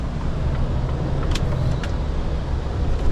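A fully loaded truck creeps forward in a snowstorm, its engine a steady close low rumble with a couple of brief faint clicks, no talking.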